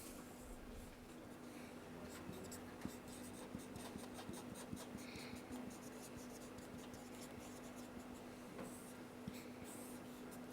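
A teacher writes on a classroom board during a science lesson, producing a steady scratchy, rubbing texture of chalk or marker strokes that runs throughout, with faint whispery speech-like sounds beneath.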